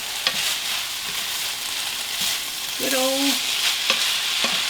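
Sloppy joe mixture of ground meat fries in a pan with a continuous sizzle while a big spoon scrapes and stirs, giving a few knocks and one short squeaky scrape partway through.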